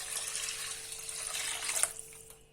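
Water runs in a steady hissing stream into a pot to cover rice, fading out at the end with no talking.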